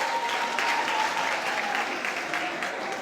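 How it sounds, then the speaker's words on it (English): Audience applause fills a school leaving ceremony for a primary and infant school class, a steady, dense clapping from a crowd that holds at an even level throughout without a break. "Give him a round of applause as he gets."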